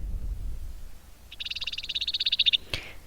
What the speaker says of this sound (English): as well as the California red-legged frog